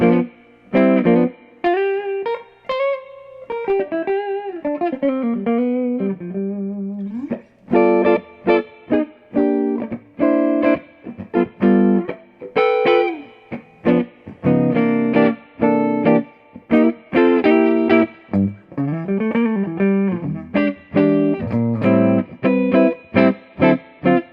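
An electric guitar plays chords and short phrases through a Fender Blues Junior amp with heavy reverb, each note trailing into a washed-out tail between bursts.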